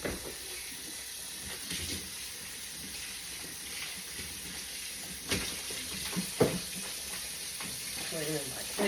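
Grease sizzles in a frying pan on a home stove, a faint, steady crackling hiss broken by a few sharper pops and clinks from the kitchen.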